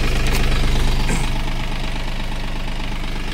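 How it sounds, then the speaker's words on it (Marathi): A Mahindra Oja 2130 30 hp tractor runs in first gear during sugarcane field cultivation, its engine giving a steady, close, knocking diesel chug that holds loud and unbroken throughout. "पहिल्या गिअरमध्ये आपण ट्रॅक्टर चालवत आहोत"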